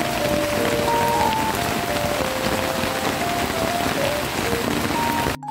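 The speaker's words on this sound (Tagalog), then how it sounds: "nakaka-relax yung tunog ng ulan" Steady rain patters on a surface at a campsite in Tanay in a constant, dense hiss, close and fairly loud, with a few faint tones drifting underneath.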